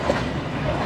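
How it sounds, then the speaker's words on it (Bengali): The Banalata Express passenger train from Dhaka to Rajshahi running nonstop along a curve, giving a steady, loud rumble of wheels on the rails throughout. "ছেড়ে দিল বনলতা এক্সপ্রেস তার গন্তব্য চাঁপানবাবগঞ্জের উদ্দেশ্যে"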